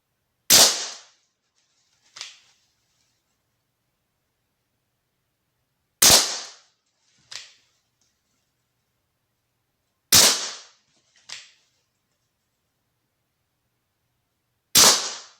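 Dan Wesson 715 revolver with a 4-inch barrel firing slow, deliberate single precision shots, four sharp loud cracks spaced several seconds apart, each followed by a brief echo off the range, with no talking.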